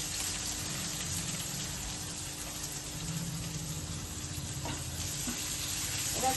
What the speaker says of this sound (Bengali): আমি একটু জিরে ফোড়ন দিয়ে দিলাম, আর পেঁয়াজ কুচিটা দিয়ে দেবো।